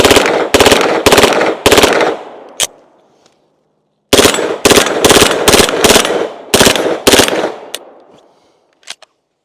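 Rapid bursts of shots from an HK SP5K PDW fitted with a Super Safety, loud and close, fired in two strings of quick, evenly spaced reports with a gap of silence between and a short echoing tail after each.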